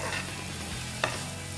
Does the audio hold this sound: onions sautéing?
yes